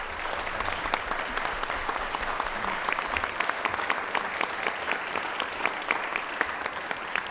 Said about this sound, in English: Everyone please help me give them a round of applause